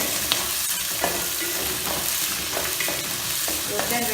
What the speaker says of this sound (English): we will saute for like 5 minutes